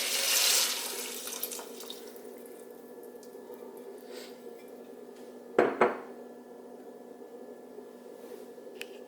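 Three cups of filtered water run steadily into a pot of elderberries, a continuous splashing stream, with a couple of brief clanks of metal partway through.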